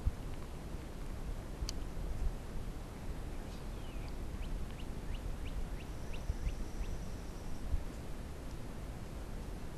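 Geese call outdoors at night: a series of faint, distant honks and squawks over steady background noise, with no speech heard.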